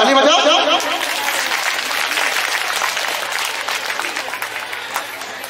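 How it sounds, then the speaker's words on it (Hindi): Applause fills a church felicitation ceremony: a loud, dense burst of clapping from the gathered audience that continues steadily and tapers slightly, with some murmuring and light laughter mixed in. "हाँ ताली बजाओ"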